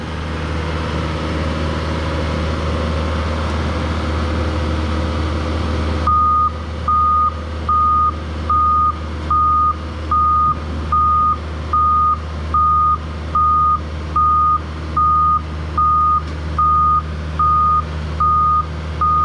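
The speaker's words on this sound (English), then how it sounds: "The beeping is because he's actually in reverse." A truck towing a trailer idles with a steady low rumble, then its reversing alarm starts and beeps in a regular, evenly spaced series over the engine.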